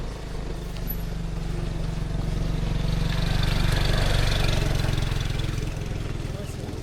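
A motorcycle engine idles steadily nearby at a campsite, a low continuous rumble that swells slightly midway, with people talking over it.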